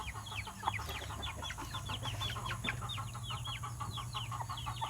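Farm chickens clucking steadily throughout, many overlapping calls in a busy outdoor chorus over a low background hum, with no talking.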